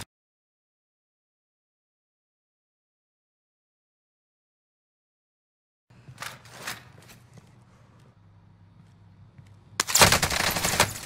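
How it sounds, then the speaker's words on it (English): Call of Duty Warzone gunfire arrives after several seconds of silence, a few sharp shots followed later by a loud rapid burst, with faint movement noise between. "I think there was someone shooting here."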